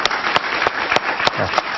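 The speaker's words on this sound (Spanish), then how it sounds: "Un aplauso para Antonio Marval." A short burst of clapping from a TV studio audience welcoming an interview guest, dense and steady, with a few sharper claps standing out.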